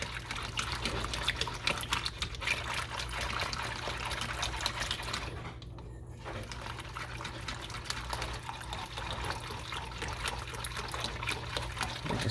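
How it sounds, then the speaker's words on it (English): Milk is poured into a pan a little at a time while being whisked for a bread pudding whisky sauce, a steady close trickle and churn that runs without a break, briefly quieter midway, with no talk. "pour the milk in. A little at a time, and whisk until it gets thick"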